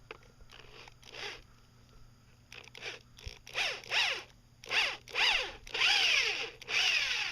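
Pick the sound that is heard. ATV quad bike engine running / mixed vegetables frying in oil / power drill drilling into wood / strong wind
power drill drilling into wood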